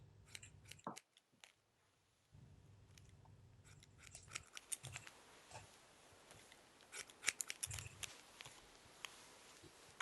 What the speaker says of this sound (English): That's the hairdresser's scissors.